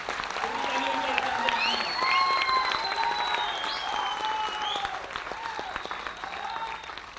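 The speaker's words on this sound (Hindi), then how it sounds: "जोर से तालियां बजाइए" Loud, steady audience applause fills a hall at a company gathering, sustained for the whole stretch, with tonal music-like sounds and a voice layered over the clapping.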